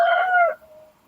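A rooster crows just outside a door early in the morning: a single loud, nearby call that holds briefly, then trails off into a thin, fading tail.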